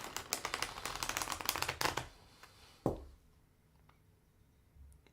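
Tarot cards being shuffled up close in a rapid, crisp riffling flutter for about two seconds, followed by a single sharp tap and then near silence with faint small clicks.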